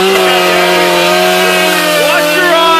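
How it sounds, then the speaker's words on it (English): A chainsaw runs at full throttle while cutting into a television set, a loud, steady, high-revving motor whine that holds without a break for about three seconds, close to the listener. "We're gonna cut a TV with a chainsaw."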